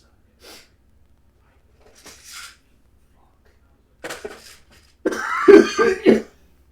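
A man coughs and clears his throat in short, harsh bursts separated by quiet pauses, building to a louder, rougher fit of coughing near the end, close and alone.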